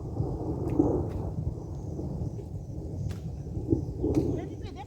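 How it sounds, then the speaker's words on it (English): Steady rain falling outdoors on swampy land during planting work, a continuous dense wash with low rumbling swells and occasional louder gusts. "The rain falling on our backs is helping us cool off."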